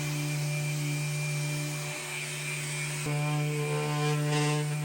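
A power sander sanding wood on a mid-century modern dresser whirs continuously with a steady tonal drone and broadband grinding noise, shifting slightly in pitch partway through.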